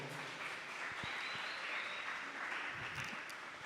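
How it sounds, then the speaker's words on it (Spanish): Soft, distant audience applause rises in a church youth gathering after a young person reads from the Bible, a steady, diffuse patter heard faintly and continuously. "¿Podemos dar un aplauso a ese joven que vino a leer la Biblia, por favor?"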